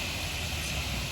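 Steady broadband wash of swimming pool background noise, a constant hiss-like hum with no breaks, faint and continuous behind a quiet indoor setting, with no talking.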